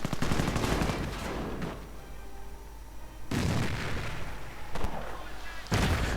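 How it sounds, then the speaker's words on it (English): Mortar rounds fall in a Company of Heroes–style WWII strategy game, with loud bursts of booming impacts and gunfire rumbling continuously, swelling at several points across the stretch with no one talking. "More mortar rounds falling."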